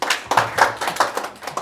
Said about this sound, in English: Let's give an applause again.